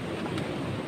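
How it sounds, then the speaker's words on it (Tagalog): Steady rain hissing for a moment, a dense, even patter with no voices. "Maulan na. Inabot kami ng ulan."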